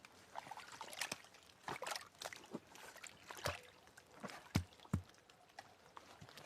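Faint water trickles and drips through a small homemade dam of boards in a stream, soft intermittent splashes and gurgles with occasional knocks, quiet and close.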